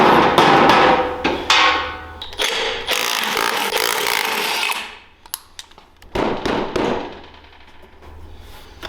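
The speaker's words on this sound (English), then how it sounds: "Rubber mallet." A rubber mallet strikes an aluminum go-kart wheel that is crimped around the lug nuts. Loud, irregular blows and clanks come close up, with brief gaps between them.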